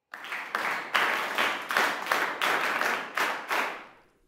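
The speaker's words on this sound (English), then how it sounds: "Clap your hands." A class of students in an English lesson claps hands together in a steady rhythm of about nine loud, close bursts of applause-like clapping, which fades out at the end.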